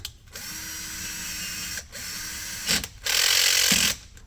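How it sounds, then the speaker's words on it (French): A cordless power screwdriver with a torque clutch drives screws into a VZ 58 rifle stock, a close, steady whirring in several bursts separated by brief pauses, the last burst louder and higher. "je me sers d'une visseuse parce que ça va plus vite"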